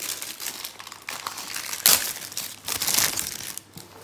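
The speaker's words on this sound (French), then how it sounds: "il faut déballer le panneau du corps" A wrapped R2-D2 model body panel being unpacked, with crinkly plastic wrapping crumpled and rustled continuously up close, one sharper loud crackle midway.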